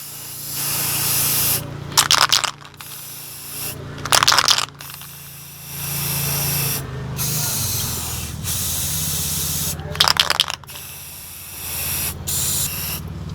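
An aerosol can sprays paint onto a bottle to prepare it for hydro dipping, giving several short bursts of hiss of a second or two each, separated by pauses, over low background hum, no talk.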